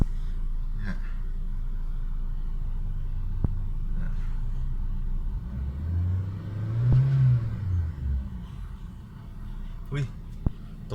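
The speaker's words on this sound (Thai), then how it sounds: "รอบเครื่องยนต์นิ่งนะครับ" A Mitsubishi Lancer 1.6 G engine with 37,000 km hums steadily at a low, even idle, with a brief swell partway through and occasional clicks, while someone talks over it.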